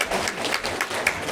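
Audience applause at a primary school graduation ceremony, a steady patter of many hands clapping at moderate volume, continuous and somewhat distant across the short stretch.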